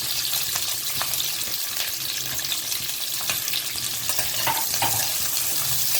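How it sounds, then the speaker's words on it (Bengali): Chopped onions and capsicum fry in hot oil in a pan, making a moderate, steady sizzle with soft crackles throughout and no speech. "এবার আমি যে পেঁয়াজগুলো কেটে রেখেছিলাম পেঁয়াজগুলোকে ছেড়ে দিলাম এবং ক্যাপসিকামগুলো দিয়ে দিলাম।"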